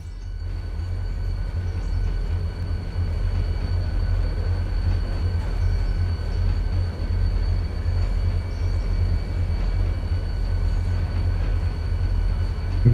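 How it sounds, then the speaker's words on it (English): Steady, loud rumble of a modded train engine in a railroad video game, a constant low drone with faint tonal whine above it and no pauses. "This is a modded train and has the best sounds."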